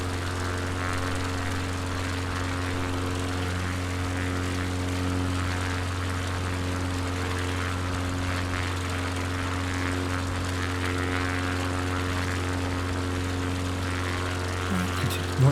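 Steady propeller-plane engine drone during a climb on an Alaska bush flight in Microsoft Flight Simulator 2020, loud and continuous with a constant harmonic hum throughout and no talking.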